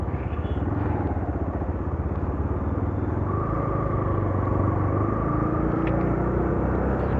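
A UM Renegade Commando motorcycle engine drones steadily, a dense low rumble with rapid firing pulses and a faint rising whine, heard close throughout without talk.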